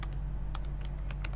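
Fingers tap on a computer keyboard in uneven bursts of clicks, fairly faint over a steady low hum, no talking.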